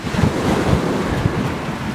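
Ocean surf rolling in continuously where a surfer paddles out with a board, a broad wash of breaking waves mixed with wind buffeting the microphone, loud and steady throughout.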